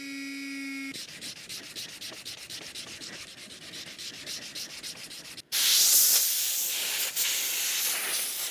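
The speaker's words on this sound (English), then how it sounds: "the sanding is looking good" An inlaid wooden cutting board is sanded in a close, continuous rasping rub, changing to a louder, harsher hissing pass for the last few seconds.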